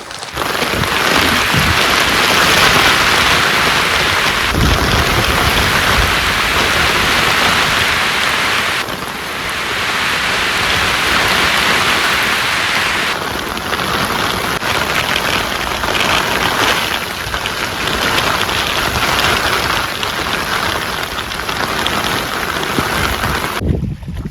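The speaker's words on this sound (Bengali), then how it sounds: "ভীষণ বৃষ্টি হচ্ছে।" Heavy rain pours steadily during a storm in the Sundarbans, a loud, dense wash of drops hitting surfaces close by, with gusts of wind buffeting the microphone throughout.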